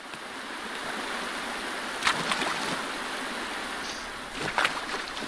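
Steady rushing water from waterfalls in the video game Pine, a broad constant wash with a couple of brief splashy accents, no speech.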